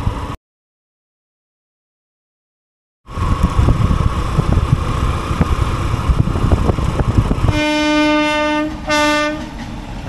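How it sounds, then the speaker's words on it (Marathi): The Netravati Express passenger train roars past close by with dense rumbling and rattling wheels, then a loud multi-tone horn blares twice near the end. "जी ट्रेन गेस केलेली तीच ट्रेन इथून जात आहे, नेत्रावती एक्सप्रेस"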